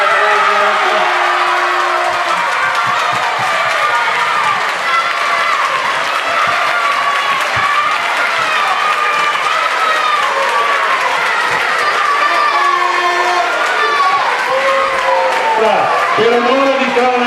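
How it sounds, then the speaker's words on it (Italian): A crowd at a youth football school event applauds and cheers continuously, loud and close, with children's shouts and voices mixed into the sustained clapping. "con un grosso applauso, diamo l'augurio di buona manifestazione al Monte Belluna"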